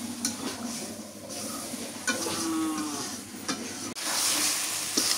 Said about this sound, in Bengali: মাংসটা কষানো হয়ে গেছে